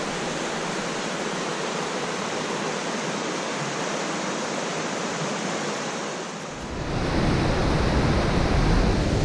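A mountain stream in the Gantrisch nature park near Schwarzsee and Plaffeien rushes with a steady broadband wash, close and loud, growing fuller and heavier in its low rumble toward the end.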